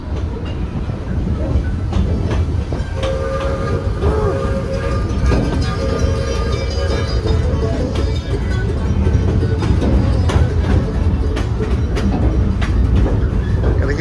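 Cedar Creek Mine Ride roller coaster at Cedar Point running on its track, a loud continuous rumble and clatter with a brief squeal of wheels partway through, no voices.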